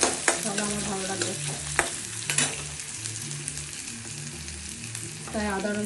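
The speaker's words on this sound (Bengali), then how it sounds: "পেঁয়াজগুলো ভাজা ভাজা হয়ে গেছে" Chopped onions frying in a pan for an egg curry, a steady close sizzle broken by clinks and scrapes as a utensil stirs them, with no voices over it.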